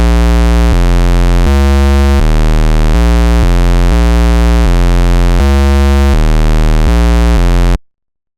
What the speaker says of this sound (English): let's go ahead and take off the sawtooth and put on this pulse or square waveform